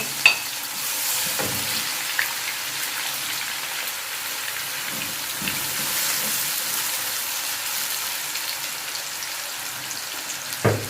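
Steady, loud sizzle of two finely chopped onions frying in a hot pan for Sindhi fish masala, a continuous crackling hiss with a few soft clicks of stirring, no voices.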